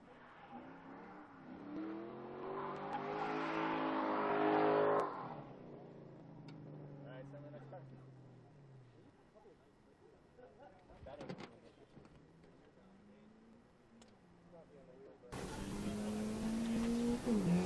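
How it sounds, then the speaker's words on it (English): A Subaru BRZ drift car at a drift competition revs hard and climbs through rising engine notes for several seconds, then the engine drops to a lower drone while a commentator talks over the scene and another loud burst of revving arrives near the end. "All right, we got John Werner in his Subaru BRZ."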